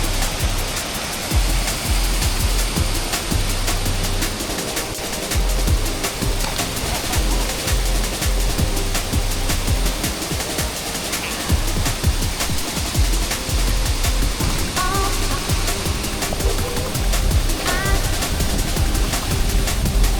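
A waterfall in Cape York, northern Australia, gives a steady, loud, rushing roar that continues unbroken for about twenty seconds.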